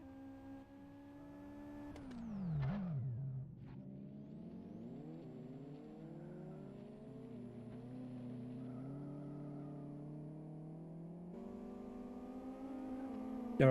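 A race car warms up in the Live for Speed racing sim during a rallycross championship round, its engine droning steadily with pitch swings, a sharp rev dip and recovery early on, then a sustained rising hum.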